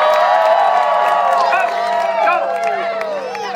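Crowd at a pig race cheering and whooping loudly and close, with a voice urging the pigs on over the steady roar of the spectators.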